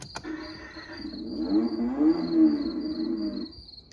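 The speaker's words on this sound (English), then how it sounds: "It kind of bugs me it's a 6-cylinder sound, but I guess it is a 6-cylinder." Power Wheels ride-on toy car fitted with a six-cylinder engine sound module, starting up and playing a low, steady engine drone that swells and rises in the middle before cutting off, with a faint high whine throughout.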